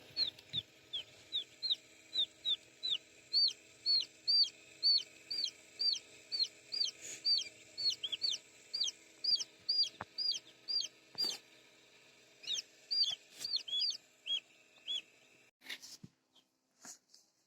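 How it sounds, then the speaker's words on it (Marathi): Newly hatched chicks in a home incubator peep in a steady run of short, bright chirps, close and clear, with a few soft knocks and a brief pause near the end. "तुम्ही बघितलं आहे माझ्या इन्क्युबेटर मध्ये निघलेले पिल्ले"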